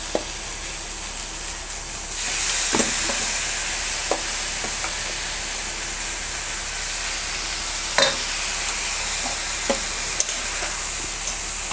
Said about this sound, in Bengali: এটা দিয়ে চালটা একটু ভাজবো।